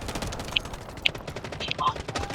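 Gunfire in the mobile shooter game Delta Force Mobile: a few sharp shot cracks stand out over a dense, steady bed of battle noise for about two seconds.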